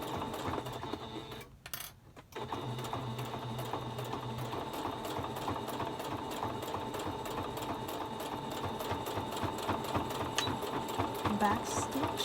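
A sewing machine stitches through several layers of a pleated fabric mask with interfacing, a steady close mechanical whir running almost continuously after a brief stop near the start, with a person talking over it.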